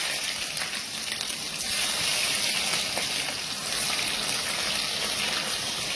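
Chopped onion dropped into hot oil in a pan on a stove turned down to simmer, giving a steady, loud, broad sizzling hiss that carries on evenly throughout with no pauses.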